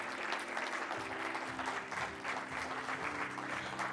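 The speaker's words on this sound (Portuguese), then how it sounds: "Uma salva de palmas para eles, por favor" Audience applause at an entrepreneurship and innovation awards ceremony, a dense steady clapping that fills the room for several seconds with no talk over it.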